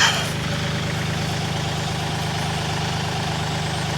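A MechMaxx SG24 stump grinder engine runs steadily at a constant, even drone, fairly loud and close, with no talking.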